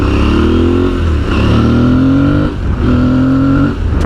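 An adventure motorcycle rides along a country road, its engine loud and close, droning steadily with rising revs that dip briefly at gear changes before climbing again.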